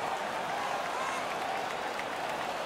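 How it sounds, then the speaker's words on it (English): In the NHL 17 hockey video game, the home arena crowd roars and applauds in a steady, sustained wash of cheering noise, moderately loud and continuous with no clear voices standing out. "The home crowd is ecstatic."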